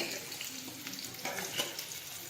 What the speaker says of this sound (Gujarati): હવે આપણે તેમાં કાંદા નાખીશું,